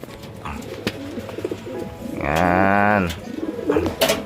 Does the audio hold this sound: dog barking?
no